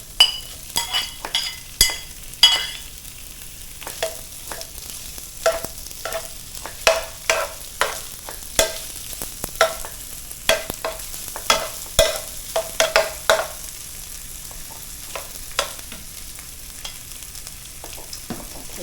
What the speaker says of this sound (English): Heating up, we're going to go ahead and cook our sausage